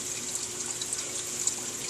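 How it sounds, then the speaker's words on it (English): Water pours from above into an aquarium sump below a homemade filter box, making a steady close splashing hiss with small bubbling flickers and no talking. "The water pours down from above."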